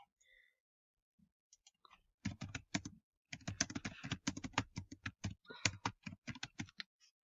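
Rapid typing on a computer keyboard in a cold home bedroom, starting with a few scattered taps and then running as dense, close, clattering bursts of keystrokes with short pauses, no voices.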